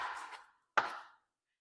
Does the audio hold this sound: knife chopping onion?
yes